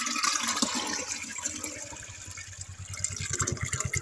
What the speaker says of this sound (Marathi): आता हे पूर्ण मिश्रण धरायचं आणि हे 100 लिटर जे पाणी आपण याच्यात घेतलं होतं या छोट्या ड्रमात,